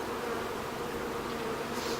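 Honey bees buzz steadily while a package of bees is being installed into a hive, a faint, even, continuous hum with no voices and no pauses.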